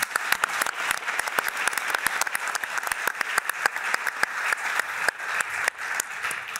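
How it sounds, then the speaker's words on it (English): Conference audience applause for the organisers, a sustained, fairly loud patter of many hands clapping with no voices over it. "So if we could just give them a quick round of applause."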